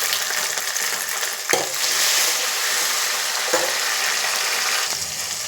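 Tomato pieces sizzle and fry steadily in a pan of onions, green chillies and spices for chicken curry, with a continuous near hiss broken by a few soft stirring knocks.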